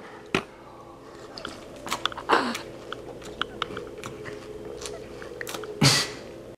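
Someone eats a bowl of cereal with a spoon, giving crunchy chewing and bites with a couple of sharp spoon clinks against the bowl, close up and without talking.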